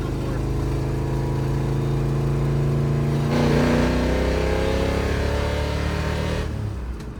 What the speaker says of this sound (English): That's the hardest I've ever revved this thing before.